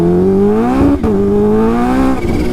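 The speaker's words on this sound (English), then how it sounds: "It was like a quarter throttle, just blowing the tire off" An H2 motorcycle does a burnout in freezing 25-degree cold, its rear tire spinning at quarter throttle. A loud, steady high-revving engine drone holds throughout with a brief dip near the one-second mark, and no voices.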